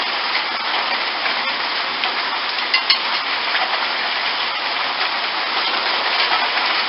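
Small, tiny hail falling steadily on grass, a dense, even hiss of pattering pellets with a few louder ticks, no voices.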